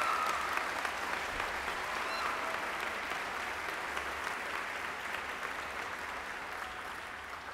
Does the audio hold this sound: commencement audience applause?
yes